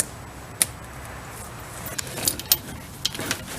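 A snow chain is fitted around a car wheel, with scattered metallic clinks and jangles of the links against the tyre that grow busier toward the end over quiet background.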